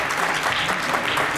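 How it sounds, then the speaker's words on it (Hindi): Audience at a software company's seven-year annual celebration applauding, a dense burst of clapping that holds steady for a moment. "तालियां गाइस, तालियां"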